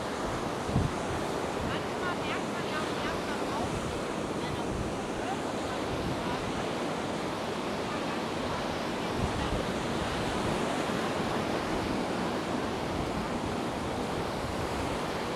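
Rough sea waves surge and wash continuously along the shore at Paguera, Mallorca, a steady broadband roar of surf with wind buffeting the microphone throughout.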